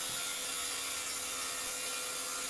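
A hand saw cuts steadily through wood for a van's technical storage box, a continuous close rasping stroke with no talk over it.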